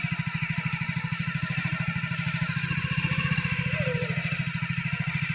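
A motorcycle pulls away slowly in first gear during a riding lesson, its engine thumping in a steady, even pulse close by for the whole stretch, with only faint background noise.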